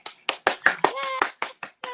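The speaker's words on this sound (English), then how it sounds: "Clapping for my damn self" A lone pair of hands claps about ten times in a steady rhythm, each clap sharp and close, with a faint voice-like tone drifting underneath partway through.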